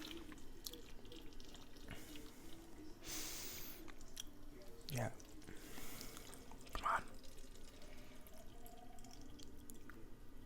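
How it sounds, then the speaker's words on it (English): Water trickles and drips from a tap into a container, with a brief voice speaking over the running water. "I'm just filling up my water bottle."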